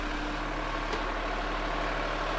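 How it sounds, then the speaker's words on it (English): A boat's diesel generator set runs steadily below deck, a constant low engine drone with an even, unbroken hum and no voices over it. "The genset's running right now, so you can, I'm having basically a fairly quiet conversation and you can hear it's quite easy."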